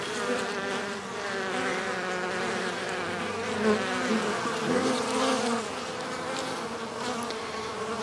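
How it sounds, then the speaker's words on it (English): Flies and bees buzz around a beehive in spring, a dense, steady insect drone that stays close and continuous throughout, with no talking. "There's a lot of flies buzzing around because there's probably dead bees inside the hive"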